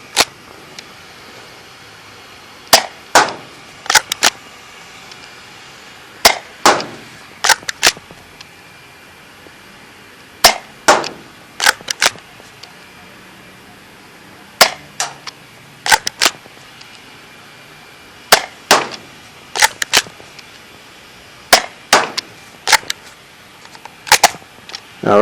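A Dart Zone Pro MKII toy blaster fires foam darts in sharp, loud snaps, coming in scattered pairs and small clusters across the span, with quiet gaps between shots.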